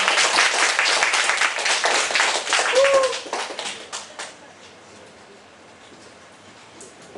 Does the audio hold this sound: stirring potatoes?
no